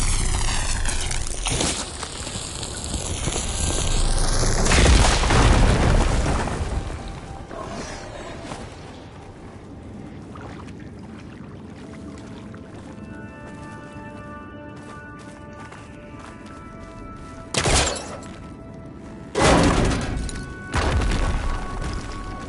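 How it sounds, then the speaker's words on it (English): An explosion blasts open a fire grate in the video game Horizon Forbidden West. There is a loud low boom near the start, a quieter ambient stretch, then further sharp bursts toward the end, with no talk. "Should be able to blow up that fire grate."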